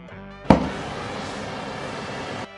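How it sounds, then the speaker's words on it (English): A sharp pop ignites a torch, followed by a steady, loud roaring hiss of flame on ultra-high-strength boron steel that runs for about two seconds, then cuts off. "Then I tried to torch it."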